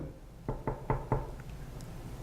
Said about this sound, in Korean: 그런데 새벽 2시에 문을 두드려요.